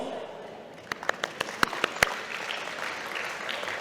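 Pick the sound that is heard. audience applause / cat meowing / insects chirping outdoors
audience applause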